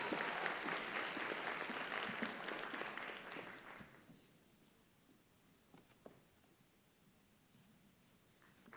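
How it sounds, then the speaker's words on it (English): An audience at a nursing school convocation applauds its FNP graduates, with dense, loud clapping for about four seconds that then thins to a few scattered claps and near quiet. "another round of applause for our graduates of our FNP program"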